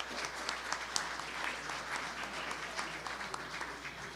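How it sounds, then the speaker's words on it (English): A town hall audience in Houston breaks into sustained applause, a dense, steady wash of many hands clapping at close range with no pauses. "let's give Stella a warm applause"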